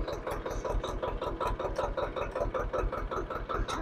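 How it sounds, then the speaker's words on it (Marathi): A tractor engine idles low while driving a homemade milking-machine rig, a steady close mechanical chug with a rapid even pulsing rhythm and no talk. "ट्रॅक्टर जो आहे तो लो आयडलिंग म्हणजे एकदम चालवायचा आहे"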